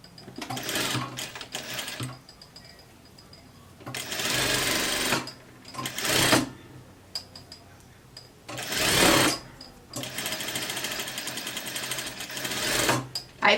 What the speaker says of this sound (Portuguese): E aí você costura com o de margem de costura.